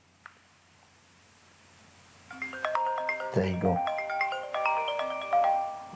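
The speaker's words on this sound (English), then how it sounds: "I should get a call on my mobile phone" A mobile phone's ringtone sounds for an incoming call, a melodic series of electronic notes that starts softly and quickly grows loud and steady, close by, with a brief spoken remark near the beginning of the ringing.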